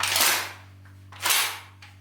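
Two sharp, loud gunshots from a polar bear protection firearm fired outdoors, spaced about a second apart, each followed by a brief decaying echo, with a steady low hum underneath.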